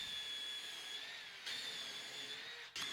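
Countersinking plywood with a tapered countersink bit during a custom home bar cabinet build: a steady, high-pitched whine runs nearly three seconds with brief dips and a sharp burst near the end.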